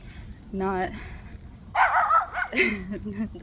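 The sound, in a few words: dog barking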